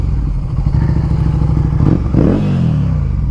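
Classic motorcycles cornering on a road in Chuncheon, South Korea, with a loud, close, steady engine drone that pulses rapidly, then a thud and a rise in pitch as the bike accelerates.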